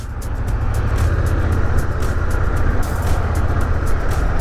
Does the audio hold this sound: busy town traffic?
yes